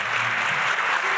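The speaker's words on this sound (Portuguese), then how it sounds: "Aplausos para o Walter" A festival audience applauds a moderator named Walter at a literary event, a dense, steady wash of clapping from many hands that stays loud and even throughout the short burst.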